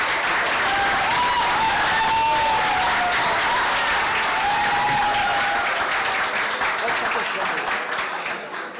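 A crowd applauding and cheering at a public security plenary of a Brazilian artificial intelligence forum, dense loud continuous clapping with whoops and shouts on top, holding steady across the clip and fading slightly at the end.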